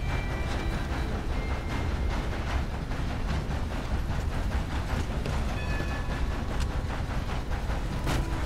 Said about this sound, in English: I wasn't even hit by the train.